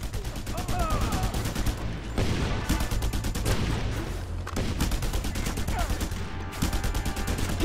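Rapid bursts of automatic gunfire in the Just Cause 2 video game, crackling steadily in dense rhythmic volleys with brief lulls, layered over background combat noise and a talking voice.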